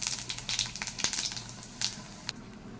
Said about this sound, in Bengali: এদিকে ডাল ফোড়নের জন্য তেল দিয়েছি, তেলটাও গরম হয়ে গেছে। শুকনো লঙ্কা আর 5 ফোড়ন দিয়ে দিচ্ছি।